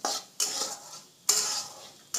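Mung dal is stirred as it fries in hot oil in a pan, with three or four rhythmic scraping strokes of the utensil, each a close, bright rasp followed by a softer fading tail.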